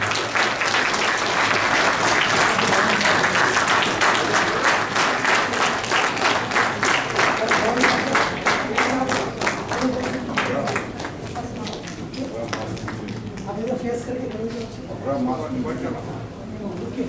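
An audience claps at a farewell ceremony for an ambassador in Riyadh, with steady, dense applause that fills the room, stays loud throughout, and gradually thins toward the end.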